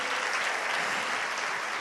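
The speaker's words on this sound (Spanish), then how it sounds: "Yo quiero otro aplauso a Dios por él." A church congregation gives a sustained round of applause during a sermon, a thick, even roar of many hands clapping with no breaks.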